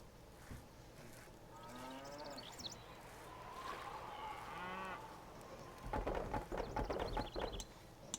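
Cattle mooing in the 2001 castle-building game Stronghold: several drawn-out, wavering lowing calls from a herd over a steady background hum, followed by clattering hoof-like and rustling farmyard noises at the end.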